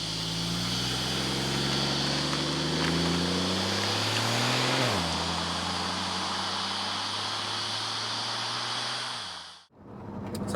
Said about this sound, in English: we'll do a quick little roll into second gear here